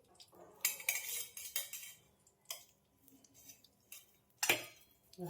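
A large round ladle spoons ghee into a pan for wheat-flour churma ladoo, giving several sharp metallic clinks and scrapes spread across the moment, with quieter clatter between them and no talking.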